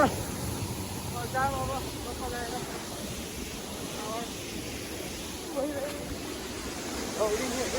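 A mountain stream in Mustang, Nepal, rushes and gurgles continuously nearby with a steady broadband wash, and faint voices are audible in the background.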